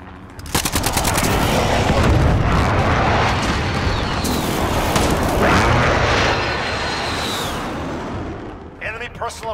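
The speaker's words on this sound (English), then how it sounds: "Allied precision airstrike incoming." Heavy explosions from a precision airstrike in a shooter game roll in loud and booming over continuous gunfire, a long dense roar with rattling bursts, fading into scattered shots at the end while voices speak over it.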